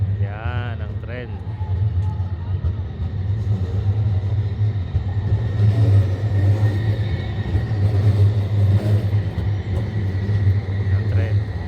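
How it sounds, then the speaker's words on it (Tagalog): A heavy train rumbles past close by with a steady low roar and rattling, while a person speaks over the noise. "Ayan na po yung tren, para makita nyo."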